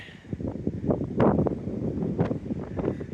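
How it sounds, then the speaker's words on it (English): Steady gusting wind buffets the microphone with a rough, rumbling roar that rises and falls throughout. "It's very, very windy."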